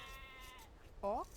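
A sheep bleats once, short and clear, in a real-time strategy game match, rising above a steady bed of game ambience and faint background sound near the end of the moment.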